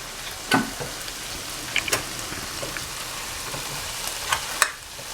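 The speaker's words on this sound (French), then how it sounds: "Donc là maintenant je vais rajouter le concassé de tomate." Squid rings and peppers fry in a pan as crushed tomato goes in, giving a faint, steady sizzle broken by a few soft clicks and scrapes.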